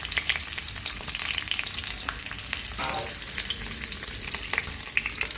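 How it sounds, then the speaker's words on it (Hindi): Stuffed brinjal and green chillies frying in oil in a kadhai, a dense close sizzle and spitting crackle that carries on steadily with a brief stir partway through. "मैंने कढ़ाई में तेल डाल दिया था और सारे जो है बैंगन और मिर्च डाल दिए थे"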